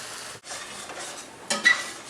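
A utensil stirs Alfredo sauce into sausage fat, olive oil and garlic in a stir-fry pan, with soft scraping and a faint sizzle, a short pause, then a louder clink near the end.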